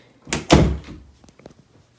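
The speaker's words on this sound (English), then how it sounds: "Open the door." An interior door thuds open as its stiff, hard handle is worked, giving two close, heavy knocks followed by a few faint clicks and rattles.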